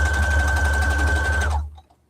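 A Brother sewing machine stitches steadily at close range, a continuous whirring drone with a fine rapid pulse and a thin whine, stopping abruptly about three quarters of the way through and leaving near silence.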